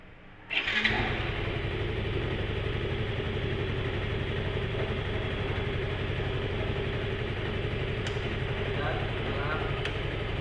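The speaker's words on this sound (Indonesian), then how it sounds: "Mesin kita nyalakan." A vehicle engine cranks and catches about half a second in, then runs at a steady, close, loud idle for the rest of the stretch, during a check of a headlight wiring and lighting system.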